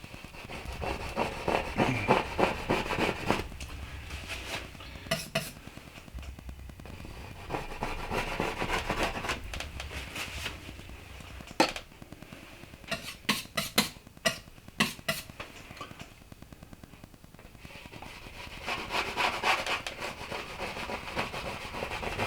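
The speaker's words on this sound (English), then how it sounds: "Scraping hard here." A palette knife or scraper drags hard across the surface of an oil painting in a water-line scene, giving repeated rough scraping strokes in bursts, close and fairly quiet, with sharp clicks and pauses between passes.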